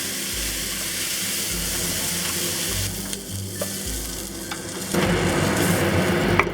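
Beef searing in a pan for a Taiwanese beef noodle soup, a steady loud sizzle running throughout with scraping stir sounds, growing busier and brighter near the end.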